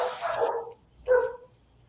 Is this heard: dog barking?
yes